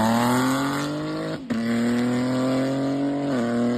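Loud, close exhaust note from a BMW 330e hybrid with a back box delete, a raspy droning hum that holds steady, dips briefly and resumes, then drops slightly near the end.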